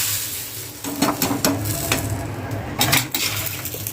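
Quiet at first, then a sudden sharp sizzle as red chilli masala and chillies hit hot oil for a dal tadka tempering, crackling on with light clinks of a pan and spoon.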